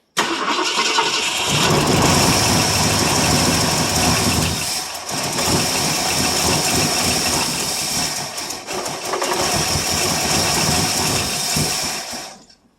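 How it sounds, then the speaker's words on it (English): A 1967 Ford LTD two-door with a 390FE V8, cold after sitting twelve years, cranks briefly then catches and runs loudly and roughly for about ten seconds before cutting off, close up with no talking. "Hold it down to the floor. Now crank it."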